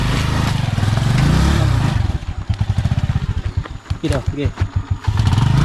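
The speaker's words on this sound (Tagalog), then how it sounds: "Hindi na makaakyat yung motor" Motorcycle engine laboring up a rough, landslide-damaged mountain road, loud and close with a rapid chugging pulse that sputters and surges unevenly, while someone speaks briefly over it.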